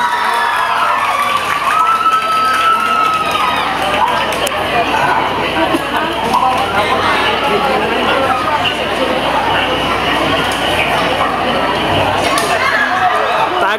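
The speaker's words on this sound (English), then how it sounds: "Good round of applause." A crowd at a foundation day event gives a round of applause, a loud continuous wash of clapping mixed with cheering, shouts and chatter, with voices throughout.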